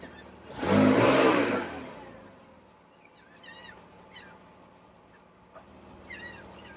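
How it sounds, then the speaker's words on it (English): A Porsche 997 Turbo engine roars in a short, loud rev that fades back down, followed by quieter idling with faint chirping birds in the background. "You got to hear the sound of that motor."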